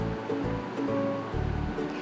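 A medium onion, finely chopped, drops into 3 to 4 tablespoons of hot cooking oil in a pot for a Delhi-style mutton stew, giving a steady, fairly loud frying hiss with low rumbling underneath and no talk.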